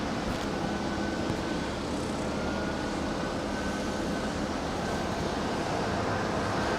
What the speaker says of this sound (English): That right there is Aeromexico flight 646 coming in from Mexico City. It's a 737 MAX 8 getting ready to cross over.